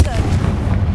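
Confringo spell blast in Hogwarts Legacy, a loud booming impact with rumbling tail filling a brief moment, with a voice overlapping.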